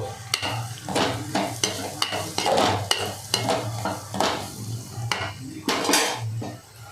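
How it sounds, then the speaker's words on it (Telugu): Carrot curry stirred in a pot after coconut powder is added, a metal spoon clanking and scraping against the pan in irregular knocks over a soft sizzle, close and without talking. "యాడ్ చేసిన తర్వాత మళ్ళీ ఒకసారి కలిపేద్దాము"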